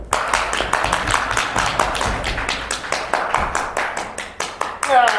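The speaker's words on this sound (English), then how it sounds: "Here's my applause." A comedy show audience claps at a live stand-up set in Coolidge, Arizona, a close, ragged run of hand claps and taps that holds steady for several seconds before thinning out near the end.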